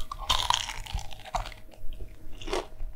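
Close-up crunchy chewing of a McDonald's chicken nugget filled with cheese and speck, with repeated loud bites and wet mastication sounds, up close and without talk.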